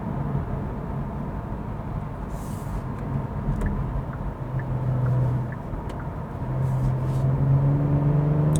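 A Genesis G70 with a twin-turbo engine pulls hard from inside the cabin, a steady low drone that swells as it accelerates, with faint road noise and no talk.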